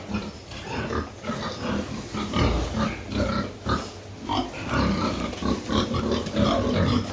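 Pigs on a Ukrainian village farm grunt and snuffle close by in a steady, busy stream, with low rough oinks repeating throughout and no talk over them.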